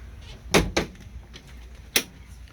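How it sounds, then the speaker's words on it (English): Sliding cabin door on a 2007 Sea Ray 290 Sundancer boat: two quick sharp knocks and scrapes close by, then a quieter stretch and one more firm clack as the door runs and stops. "you got dual doors here. One's a screen, one's your hard door. This slides open."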